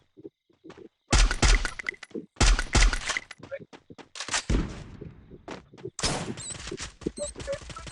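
Rapid bursts of gunfire in the video game Free Fire crack in quick succession, loud and close, with short pauses between volleys and voices talking underneath.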